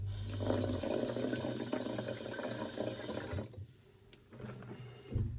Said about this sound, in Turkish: Birazcık şuradan su da atalım.